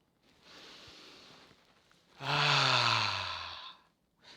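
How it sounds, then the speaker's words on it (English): One person takes a deep breath, drawing in a soft inhale and then letting out a louder, sighing exhale, heard close up against a quiet room with no speech. "Take a deep breath."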